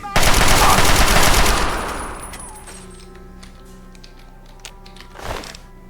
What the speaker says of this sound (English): I think they're shooting at a turret or something.